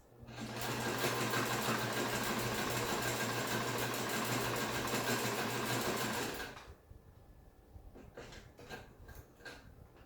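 A sewing machine runs a tightened stitch in one continuous, even whir for about six seconds, then stops, leaving faint handling clicks and rustles nearby.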